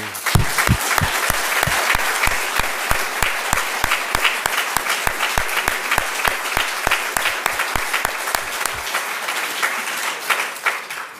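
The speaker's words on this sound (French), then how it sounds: "Je vous propose de les applaudir." A crowd applauds steadily for several seconds at an academy reception ceremony for new members, dense clapping that thins out toward the end.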